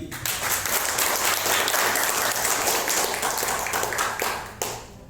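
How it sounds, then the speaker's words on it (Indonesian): An audience at a seminar bursts into loud, sustained applause, dense clapping holding steady for several seconds before tapering off abruptly near the end. "Aplaus sekali lagi."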